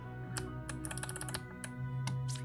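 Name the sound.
typing on a computer keyboard, pressing game hotkeys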